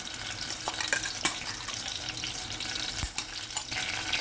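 Crushed onion and tomato sauté in hot coconut oil for a fish curry gravy, a moderate close sizzle with occasional clinks and scraping from stirring.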